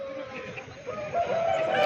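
An aseel rooster at a busy Sunday poultry market in Pileru crows in a single drawn-out call that rises and holds toward the end, fairly close, over a low murmur of market noise.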